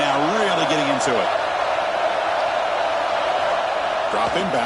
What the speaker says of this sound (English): and the crowd now really getting into it